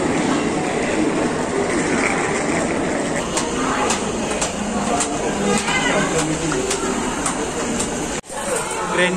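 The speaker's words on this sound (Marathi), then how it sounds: "ट्रेन मध्ये बसलोय आम्ही" Inside a moving passenger train on its rails, a steady broadband rumble carries faint, regularly spaced clacks, with people chattering nearby throughout.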